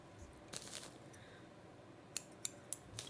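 Small scissors snip thread while tying a chubby golden stonefly fly: three faint, crisp clicks in quick succession near the end, after quiet handling rustles, with no voices.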